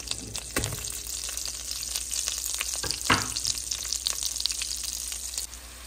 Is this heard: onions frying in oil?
yes